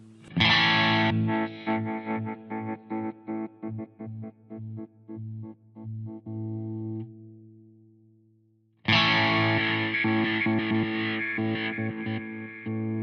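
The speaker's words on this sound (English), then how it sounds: "This is called the isolator." An Ibanez RGKP6 electric guitar played through an isolator effect with distortion: a loud chord that stutters into rapid choppy gated bursts, fades into silence, then another big distorted chord rings out.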